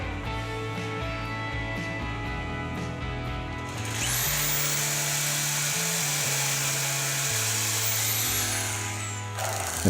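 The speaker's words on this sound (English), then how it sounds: "And attach them to the ridge board using 3-inch coated deck screws each." Power drill driving 3-inch coated deck screws through rafters into a ridge board while framing a pool house roof; after a few seconds of quieter background, a loud, steady whine runs continuously to the end, with slight shifts in pitch as the screw seats.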